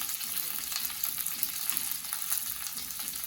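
Chillies, coriander and curry leaves frying in hot oil, a constant bright crackling sizzle, fairly faint and steady throughout with no talk.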